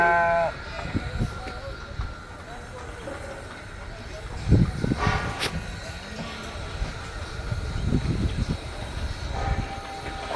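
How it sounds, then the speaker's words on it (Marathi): A large herd of goats bleating at close and middle distance, with scattered overlapping calls through a busy outdoor murmur of rustling and movement, louder around the middle of the clip. "खूप म्हणजे खूपच बकरी आहेत"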